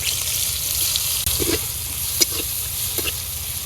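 Chopped onion hits hot oil in a kadai with a bright, continuous hiss of sizzling, close up, broken by a few soft clicks of a utensil.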